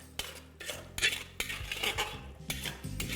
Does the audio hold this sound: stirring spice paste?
yes